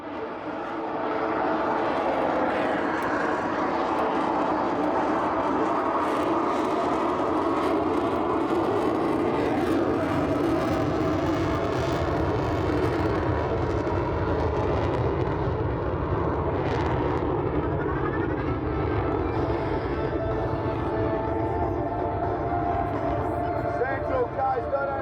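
An F-35 fighter jet climbs away on afterburner at a coastal airshow at Warnervale Airport, a loud, steady, broad roar that holds for the full stretch without letting up.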